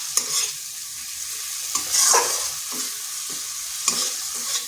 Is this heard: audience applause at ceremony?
no